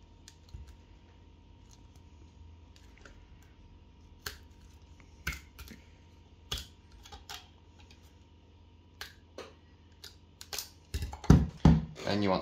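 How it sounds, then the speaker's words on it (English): The top being cut off a caulk tube, scattered sharp clicks and snips spaced irregularly, growing into a quick cluster of louder crunching cuts near the end, close in an otherwise quiet room. "First, you want to cut the top off."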